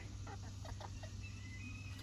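A bantam rooster and hens cluck on a homestead in a few short, quiet bursts over a steady low background hum, the calls sounding close but faint.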